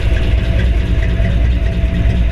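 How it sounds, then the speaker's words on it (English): A 1961 Chevrolet Impala with a 348 Tri-Power V8 and solid lifters idles close by, a steady, loud, low rumble that holds evenly for a couple of seconds with no talking. "Get out and let you hear it run."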